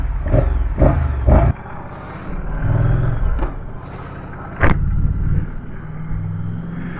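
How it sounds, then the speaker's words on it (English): Moto Guzzi V100 Mandello S motorcycle on a ride, its engine droning steadily with several sharp surges of throttle and wind rush, close and fairly loud throughout. "I am finally riding the Moto Guzzi V100 Mandello S."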